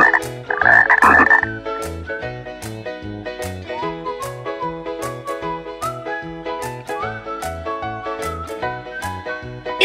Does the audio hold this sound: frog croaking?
yes